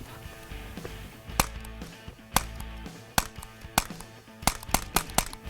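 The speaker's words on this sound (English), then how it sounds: "Let's try the BB one." A BB air gun fired outdoors in a backyard gives a series of sharp, dry snapping shots at irregular intervals, about nine in all, with some in quick pairs near the end, close and moderately loud with no talk.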